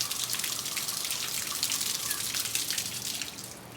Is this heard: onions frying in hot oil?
no